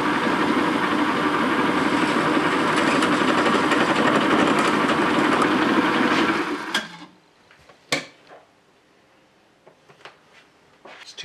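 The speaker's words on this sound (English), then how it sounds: "this is what I want to machine now into the end of this" A lathe or similar machine cuts the end of a bow thruster seat, making a loud, steady grinding whir for about six seconds. It then stops abruptly, followed by a few sharp knocks and clicks in near quiet.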